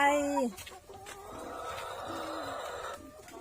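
Egg-laying hens cluck and squawk in a coop during egg collection, starting with a loud close cackle that settles into softer, steady clucking, with a person speaking nearby.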